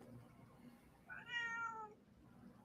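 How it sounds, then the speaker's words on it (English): A single drawn-out cat meow, fairly faint, rising and falling against a quiet room background with no talking. "Oh, I hear your cat."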